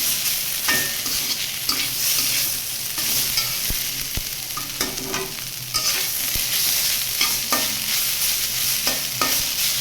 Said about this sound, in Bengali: এটা কিন্তু অনবরত নাড়তে থাকতে হবে, যে জিনিসটা ধরে না যায়।